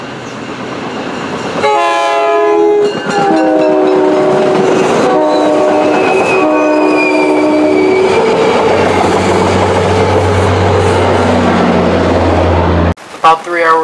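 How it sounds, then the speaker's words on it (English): An MBTA Fitchburg Line commuter train, led by a Bombardier CTC-1B cab car with a GP40MC locomotive pushing, passes close on the Shirley S curve. Loud, sustained multi-tone horn blasts ring over a heavy rolling rumble until an abrupt cut. "First train we see is Keolis 1406 at the Shirley S curve with Bombardier CTC-1B number 1631 and GP40MC number 1127 pushing."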